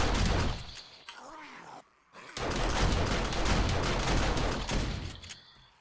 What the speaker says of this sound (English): the auto turret really shooting a lot faster and killing them